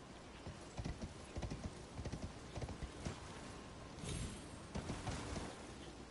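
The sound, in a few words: horse hooves clip-clopping in video game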